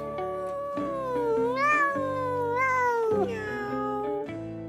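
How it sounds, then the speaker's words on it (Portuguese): A domestic cat meows in several drawn-out, wavering calls, loud and close, over soft background music and with no talking. "Vocês conhecem o som desse animal? É o gato!"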